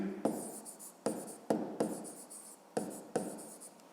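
Pen writing a math answer on paper, five or six brisk bursts of scratchy strokes with short pauses between, close and quiet.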